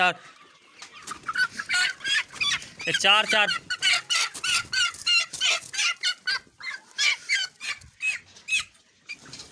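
Chickens cluck busily and repeatedly nearby, a dense run of overlapping calls from a small flock with a few louder squawks.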